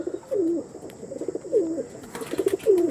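Pigeons coo in a repeated soft throaty rhythm, close by, with short pauses between the calls and no talking.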